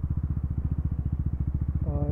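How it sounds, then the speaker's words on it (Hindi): A KTM 390 motorcycle idles while being parked, its single-cylinder engine chugging in a steady, close, throbbing rhythm, with a brief voice at the end. "ये हमारी बाइक पार्क करते हैं, ये 390"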